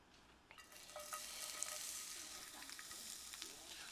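Onion and vegetables for a stir fry fry in a hot pan, the sizzle building from quiet to a steady crackling hiss with a few light scrapes of stirring, close by and with no voices.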